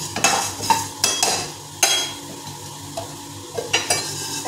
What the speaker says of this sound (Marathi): आणि आता कधी चकलीसाठी पण जिरा भाजून घेऊया